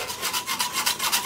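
An old, worn blade saws through thin material for a camera stabilizer build, giving a steady, close, rasping stroke that repeats in quick back-and-forth rhythm, loud and alone.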